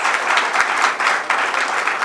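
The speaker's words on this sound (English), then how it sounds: "Come on, your clap should be louder." Audience clapping at a hotel seminar inauguration in Lonavala as the chief guest is welcomed: dense, sustained applause filling the short span at steady loudness.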